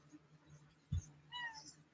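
A little cat indoors gives a faint, short meow and a thin, wavering cry over quiet room hum, with no talk.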